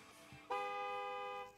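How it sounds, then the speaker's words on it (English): A car horn sounds in the Gas Station Simulator video game: a single sustained, fairly faint honk lasting about a second, heard alone without talk. "Oh, stop honking your horn at me"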